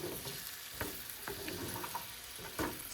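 Onions sauté in a pan for homemade French onion dip, a faint, soft sizzle with occasional stirring clicks and scrapes at low level.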